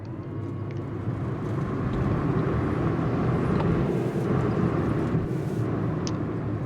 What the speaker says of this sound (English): There they are, Civil Air Patrol planes.